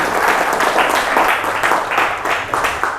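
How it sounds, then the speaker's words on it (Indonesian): Applause from a class of students in an Indonesian-language lesson, with steady dense clapping that holds evenly loud for the whole stretch and no talking over it. "Tepuk tangan untuk kita semua."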